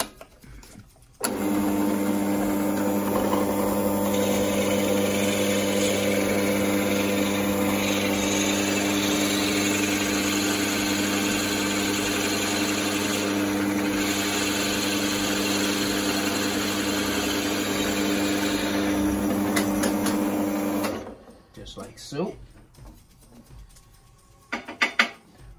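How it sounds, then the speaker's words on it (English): A power drill whirs steadily for about twenty seconds, a constant high-pitched motor drone that cuts off, followed by a few scattered clicks and knocks. "we need to drill a hole to accept our dial that's going to go into it."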